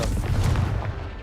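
A Confringo fire spell blasts off in Hogwarts Legacy, a dense booming burst with heavy low rumble that holds loud through the short moment.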